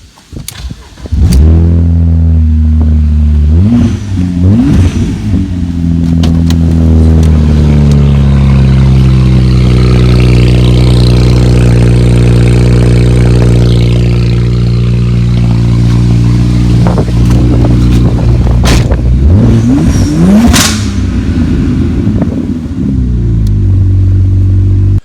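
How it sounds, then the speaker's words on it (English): BMW E36 fitted with an N54 engine, muffler removed, starting up and revving loud and close: a harsh idle rising through several sweeping revs and falling back, with a sharp rev burst near the end and no talk. "The existing muffler is gone now, and we started it up and we did not like the way it sounded."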